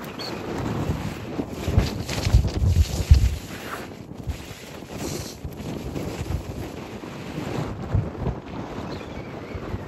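Wind gusts across the hilltop at Gingee fort, buffeting the microphone in loud, uneven rumbles that swell and ease over several seconds.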